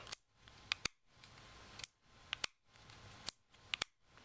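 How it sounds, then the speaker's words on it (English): The safety lever on an EAA Witness-P S 9mm pistol is flicked back and forth, giving quiet, sharp metallic clicks, often in quick pairs, several times over a soft background. "the clicks are actually kind of different, so you can actually tell it's on safe or fire"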